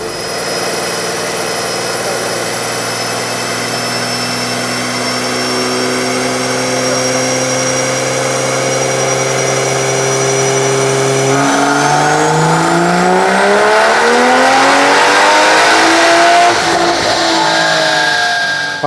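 A daily-driven MK5 Toyota Supra fitted with a bigger turbo revs on a dyno, holding a loud steady engine drone before sweeping sharply up in pitch as it accelerates, then easing off near the end.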